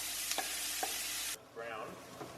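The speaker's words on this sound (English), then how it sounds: "we'll add all the onion first" Chopped onion sizzling in a hot pan, a steady loud hiss broken by a few stirring scrapes, then a short quieter sizzle.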